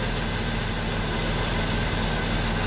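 An old Jeep CJ7 engine with an old-style carburetor idles steadily, a close, continuous low rumble and hum that holds an even level throughout with no voices.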